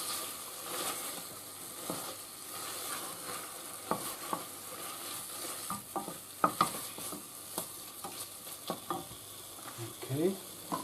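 Vinegar goes into tomato puree in a hot pan while Coca-Cola ketchup cooks, bringing a continuous soft sizzle broken by irregular clicks and scrapes of stirring, a few louder knocks near the end.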